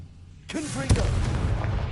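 A Confringo fire spell is cast in the Hogwarts Legacy video game, bursting with a sudden loud blast and a sharp crack, then a sustained rumbling roar. A voice calls out just before the explosion.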